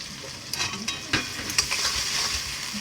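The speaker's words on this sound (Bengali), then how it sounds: "এবার আমি একটু ভালো করে কষিয়ে নেব।" Ginger, garlic and chopped tomato frying in a pan while being stirred, a continuous close sizzle broken by a few scraping clicks of the spatula.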